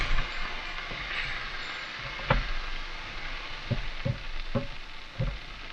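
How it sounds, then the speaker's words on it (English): Cheesy chicken potato skillet simmering in a pan inside a van kitchen, giving a steady low sizzle and bubbling. A few sharp clicks and scrapes from utensils cut through near the end, and nobody speaks. "And then I'm just going to let that simmer for a little bit."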